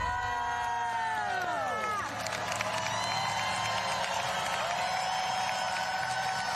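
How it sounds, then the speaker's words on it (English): A large crowd at the 2025 Tournament of Roses Parade in Pasadena cheers and roars in a steady wash of noise, while band music with sliding tones plays loudly over the crowd. "Come on, guys, let's cheer them on."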